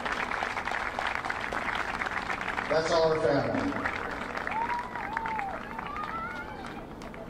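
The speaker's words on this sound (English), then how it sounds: "Give a round of applause, would you?" Crowd at a high school baseball championship game gives a round of applause, clapping and cheering spread across the stands beneath someone speaking over the public address.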